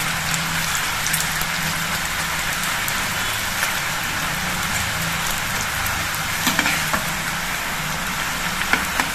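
Semolina multilayer mathri fry in hot oil, a constant dense sizzle and crackle like steady rain, with a few louder pops near the end, close up and with no talking.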